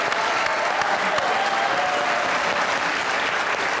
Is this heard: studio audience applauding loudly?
yes